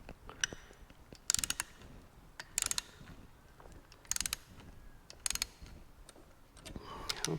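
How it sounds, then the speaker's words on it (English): Torque wrench ratcheting bolts on a Muncie 4-speed transmission being reassembled, sounding as several short clicking ratchet bursts with quieter clicks between, close and sharp with no voices. "I'm going to torque these to 25 foot-pounds also."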